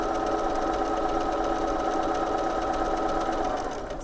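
An electric sewing machine stitches fabric at high speed along a guide, a close, steady, fast mechanical whirr and rapid needle clatter that runs continuously before easing slightly at the end.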